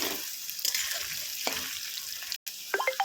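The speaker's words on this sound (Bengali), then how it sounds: "আলুটা একটু সামান্য একটু ভেজে নেব আমি।" Cut potatoes frying in a wok, a moderate crackling sizzle with a few scraping stirs, briefly cut out near the end before the hiss resumes.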